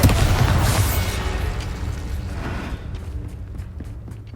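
An Incendio fire spell cast in Hogwarts Legacy bursts with a loud booming whoosh that fades over a couple of seconds, followed by faint clicking and footstep-like taps.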